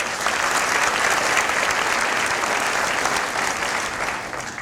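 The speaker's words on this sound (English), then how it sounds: "Please, a round of applause for them." Graduates and guests at the SIU School of Dental Medicine commencement give a round of applause, a full, continuous wash of clapping from a large hall that holds steady before tapering off at the end.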